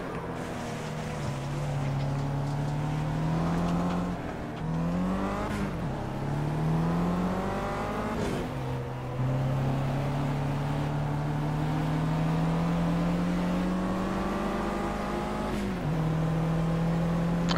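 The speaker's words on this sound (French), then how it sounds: "je pilote une Mégane un petit peu comme la mienne" A Renault Mégane racing engine in Project Cars, a steady droning engine note held at high revs, dipping and climbing briefly at gear shifts, loud and continuous with no talk.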